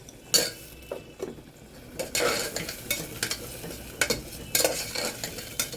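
Tomatoes with salt frying in a pan for keema baingan, a soft sizzle under repeated sharp scrapes and clanks of a spoon stirring against the pot, several distinct knocks spread over a few seconds.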